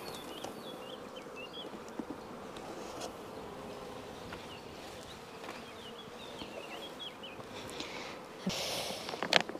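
Honeybees buzzing around a small mini hive packed with bees, a steady faint outdoor hum with occasional closer passes and distant birdsong in the background.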